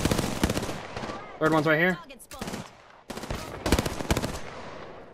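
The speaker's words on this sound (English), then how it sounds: "I literally hit him one shot with this R99 and killed him." An R99 submachine gun in a video game, firing in rapid bursts of sharp, loud, close shots separated by short gaps, with a rising electronic whine in the middle and a voice speaking briefly between bursts.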